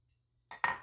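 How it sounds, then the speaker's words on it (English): Dry orzo pasta, one cup of it, pours into a pan for a one-pot spinach and artichoke orzo dish, giving a brief close rattling clatter of hard grains that swells in two quick bursts after a near-silent start. "now we are going to add in our orzo"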